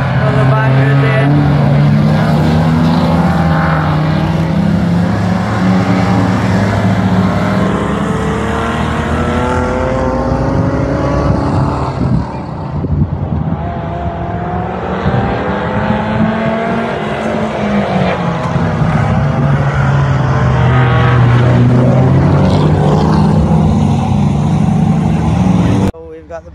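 Banger racing cars roar around Buxton Raceway, loud revving engines rising and falling as they pass close, with tire noise and crowd or commentary voices underneath throughout.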